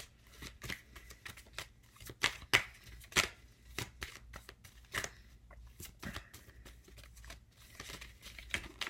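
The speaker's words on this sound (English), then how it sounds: "These cards are feeling like sticky today. They do not want to shuffle properly." Tarot cards that feel sticky being shuffled in quick, uneven bursts of riffling and slapping, close up, with brief pauses between handfuls and no talking.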